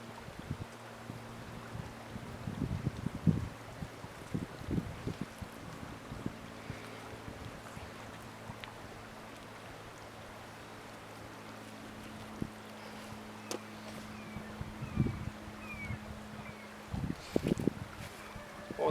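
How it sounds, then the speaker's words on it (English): Wind gusts buffet a camera microphone outdoors on a hillside during a water-pump test, a steady low rumble with scattered louder thumps and crackles throughout, and no talking. "with the wind blowing like it is"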